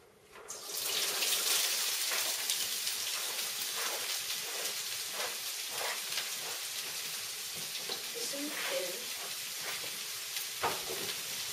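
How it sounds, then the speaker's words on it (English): Sliced onions frying in hot oil, a loud, steady hiss and crackle of sizzling that starts abruptly and continues throughout, with light spatters and occasional stirring scrapes. "now that onions are sliced and we've got the oil ready and hot, we're going to be able to quick fry this up"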